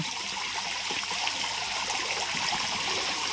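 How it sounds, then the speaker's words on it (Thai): Water pours steadily down a small built waterfall into an emerald-green garden pond beside a fountain, a constant close rushing splash with no pauses and no voices. "ดูน้ำตกที่ไหลลงมา"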